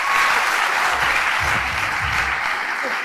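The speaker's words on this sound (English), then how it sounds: "Give him a round of applause, please." A round of applause from the audience at the El Dorado East Secondary graduation ceremony in 2025, loud continuous clapping filling the hall for a few seconds.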